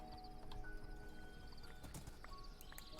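A horse in the Minecraft video game, its hooves clip-clopping in a quick irregular run with a whinny, moderately close, with no voices over it.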